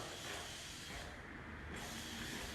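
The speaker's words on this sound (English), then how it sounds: "what I'm doing is I'm spraying down the top section once again, making sure the roots are completely moist" A spray bottle misting water onto the top section of hair down to the roots, heard as a steady, close breathy hiss that runs almost without a break through the clip.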